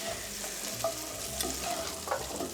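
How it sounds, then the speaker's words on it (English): Seasonings with thyme, salt and red pepper flakes are stirred into a sizzling pan, a steady frying hiss broken by soft scraping stir strokes, with no talking. "We're gonna mix all of that in. Mix it all together."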